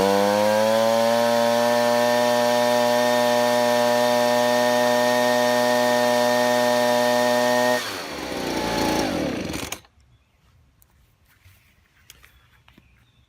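A RYOBI gas backpack leaf blower runs loudly at a steady engine drone with strong harmonics for several seconds, then shifts and winds down before cutting off into near silence.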